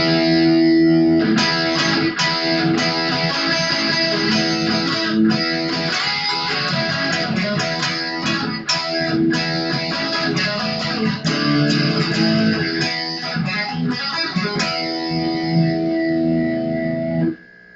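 Distorted electric guitar plays a riff with full barre chords, a steady rhythmic run of loud, chunky strums ringing continuously with effects and no talking.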